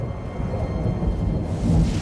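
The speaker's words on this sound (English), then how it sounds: "Lightning storms rake across the blasted surface of this region." Thunderstorm in the Deadlands region of The Elder Scrolls Online, a deep continuous rumble of thunder over steady rain, loud and even throughout.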